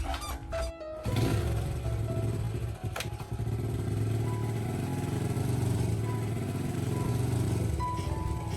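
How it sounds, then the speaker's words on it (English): A motorbike engine drones steadily on a road after a few clattering knocks, a continuous buzzing putter held at a fairly even level throughout. "As his figure and the motorbike slowly disappeared down the road."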